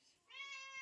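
Pet house cat giving a single short, soft meow up close in a quiet home kitchen, with no other sound around it.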